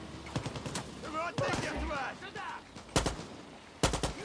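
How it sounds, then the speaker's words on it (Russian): Gunfire in the video game Far Cry 6, a few sharp loud shots and short bursts standing out at close range, with someone speaking between them. "Кто у меня стреляет, я не понял."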